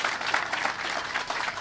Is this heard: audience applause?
yes